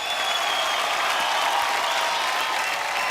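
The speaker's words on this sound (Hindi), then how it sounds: "एक बार जोरदार तालियां हो जाए आप सबके लिए।" Studio audience applause on a comedy talk show with Shah Rukh Khan as guest, a dense, steady wall of clapping that fills the clip at full loudness from start to finish.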